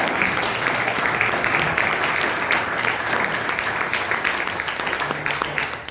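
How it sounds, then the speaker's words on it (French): A church congregation applauds the Lord at a Good Friday service, dense sustained clapping that fills the space loudly and evenly throughout, with a few voices mixed in. "Donnez une bonne main d'applaudissement au Seigneur."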